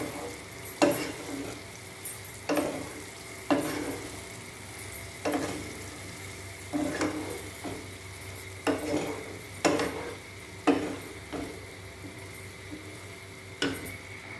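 Keema ghugni mixture stirred in a pan, the spoon scraping and knocking against the metal in a steady rhythm of roughly one stroke per second, with a soft sizzle beneath.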